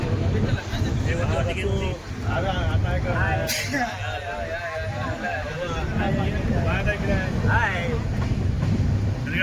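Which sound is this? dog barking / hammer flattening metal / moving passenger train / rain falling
moving passenger train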